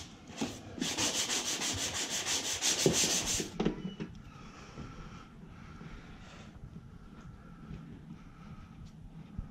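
Rapid, scratchy hand sanding of drywall for about three seconds, then quieter rubbing and faint handling noises close by.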